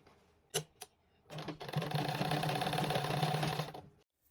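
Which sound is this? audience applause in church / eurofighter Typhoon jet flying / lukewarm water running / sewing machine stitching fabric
sewing machine stitching fabric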